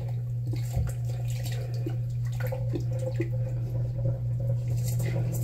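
Hot water runs steadily from a tap with a constant low hum, a few clinks and splashes scattered through the stream.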